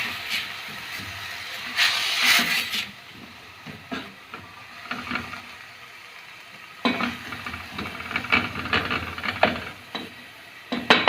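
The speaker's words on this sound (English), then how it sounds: "Cook your onions until they are caramelized." Onions sizzling and caramelizing in a pan for cream of mushroom soup, a steady hiss and crackle that swells and fades with occasional stirring scrapes.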